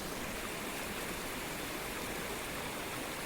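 The Gadauli river in Sindhuli rushes in a constant, dense hiss of flowing water, steady and unbroken throughout.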